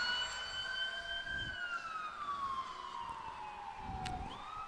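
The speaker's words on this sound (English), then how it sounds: "Ambulance going again." An ambulance siren wails in the distance near a high school baseball game between the Indians and Hilliard, its long tones sliding slowly downward and then rising again, steady and alone with no talk over it.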